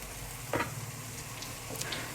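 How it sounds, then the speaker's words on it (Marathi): Scored chicken legs frying on high heat make a steady low sizzle with a couple of brief clatters. "त्याला आपल्याला एक पाच ते सात मिनटं मोठ्या ह्याच्यावर फ्राय करून घ्यायचं आहे"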